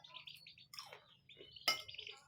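Close, quiet crunching bites of crispy fried katuk leaves, irregular crackly chews with one sharper crunch near the end, set over a low background hum.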